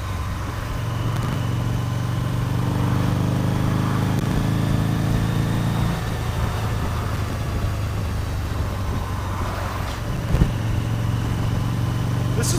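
A used Harley-Davidson V-Rod with shaking handlebars cruises at about 40 mph, its steady engine drone mixing with rushing wind noise, continuous and close throughout.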